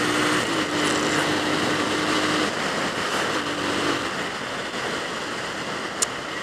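Bajaj Pulsar 220 motorcycle engine shifting through gears in Pokhara, Nepal: a steady loud whirring engine note under heavy wind rush, with a pitch that dips and rises at the shifts and a brief click near the end.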